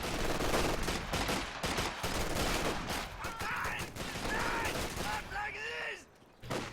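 Light machine gun grenadiers fire in a strategy video game, with dense continuous gunfire and overlapping bursts filling most of the stretch, mixed with other battle effects, before a brief drop near the end.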